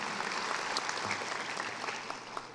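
A graduation audience at Lakeview High School in St. Clair Shores applauds a school select choir, a steady wash of many hands clapping at a moderate distance in a large hall.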